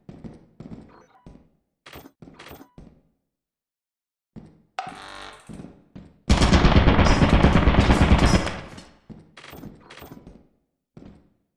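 A turret in a video game lets off a loud, continuous machine-gun burst lasting about two seconds. Before and after it come sparse, quieter clicks and thuds, separated by stretches of near silence.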